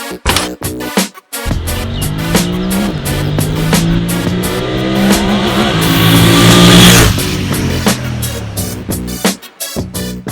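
A Royal Enfield Interceptor 650 motorcycle engine revs up and down close by, its pitch rising and falling in repeated loud sweeps, with choppy blips at the start and end.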